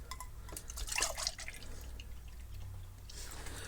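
2% milk pours into a measuring cup, a quiet liquid splash that swells briefly early on, then settles into a soft, steady trickle and glug with no voices.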